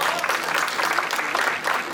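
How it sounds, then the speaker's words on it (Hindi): A crowd at a Bollywood film success party claps enthusiastically in dense, steady applause for a couple of seconds. "इनके लिए एक बारी जोरदार ताली"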